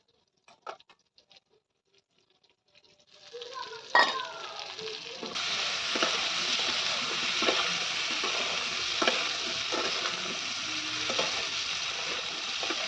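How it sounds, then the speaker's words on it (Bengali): Dried chilli and chopped tomato go into a wok of fried potatoes. After a few quiet clicks, a loud burst of sizzling rises and holds as a dense, crackling hiss, with stirring scrapes now and then and no voices. "এবার এর মধ্যে আমি শুকনো লঙ্কা আর টমেটো কুচিটা দিই।"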